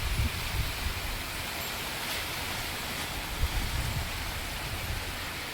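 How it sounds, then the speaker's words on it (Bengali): Heavy rain pouring down steadily outdoors during a storm with wind, a dense, even wash of hiss with no talk over it. "এত জোর বৃষ্টি এসছে"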